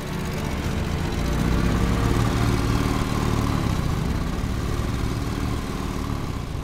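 An authentic WWII German paratrooper motorcycle engine idles steadily and loudly up close, a continuous rough, buzzing rumble with no talk over it.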